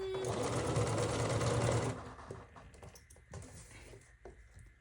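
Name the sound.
sewing machine stitching a strawberry quilt block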